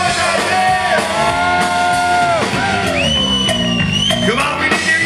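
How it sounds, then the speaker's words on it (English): A live rock concert crowd yells and whoops during a performance of "My Generation", its loud shouting blending with sustained music throughout. "Let us hear you make some noise out there!"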